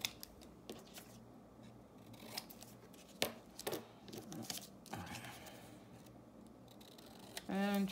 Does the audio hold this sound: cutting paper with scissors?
yes